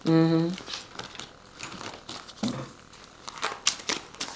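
Soft crinkly riffling and tapping of tarot cards being shuffled up close, in irregular bursts, after a brief tonal hum at the start.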